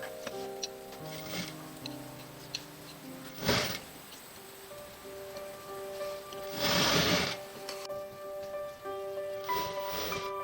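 Sewing machine stitching fabric for a baby girl's dress, a steady ticking run of needle strokes under a faint tonal hum, with a few louder bursts as the work is shifted.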